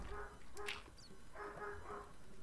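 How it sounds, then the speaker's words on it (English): Dogs bark outside, heard faintly and at a distance in a few short bursts with a brief whimpering yip between them, under a steady low background rumble. "My dogs are losing it outside."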